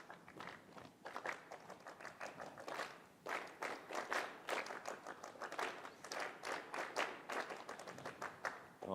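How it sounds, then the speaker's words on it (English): A group of high school students claps a counted rhythm together, many hands striking near and loud in a steady but slightly ragged pulse that runs throughout without pause. "You're just going to clap it."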